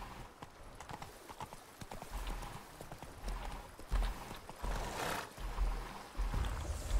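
Video game horse Roach from The Witcher 3 walking, steady clip-clop of hooves on a hard surface, moderately close with a low ambient rumble underneath.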